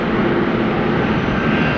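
A large airliner throttles up for takeoff at Atlanta Hartsfield airport, its jet engines producing a loud, steady, broadband roar that fills the brief moment without any voices.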